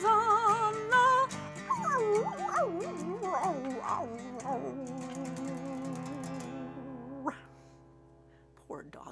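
A dog whimpers and howls in wavering, pitch-sliding cries that blend with a person singing along, then trails off into quiet with a short yip near the end.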